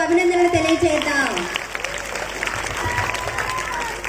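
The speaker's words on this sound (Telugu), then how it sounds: "మా విద్యార్థులకు గట్టిగా చప్పట్లు కొడుతూ అభినందనలు తెలియజేద్దాం" Audience at a church Christmas celebration applauding students, a steady crowd clapping heard close, with voices and a sung or spoken tone over the start.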